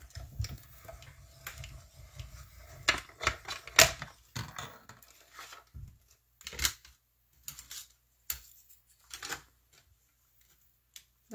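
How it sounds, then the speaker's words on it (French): A small hand-cranked embossing and die-cutting machine presses a shape out of blue paper, giving a run of sharp ticking, ratcheting clicks and thumps, dense at first and then sparser and more spaced, close and fairly quiet. "je vais prendre ma mini machine d'embossage et je vais aller couper cette petite forme-là dans le papier bleuet des bois"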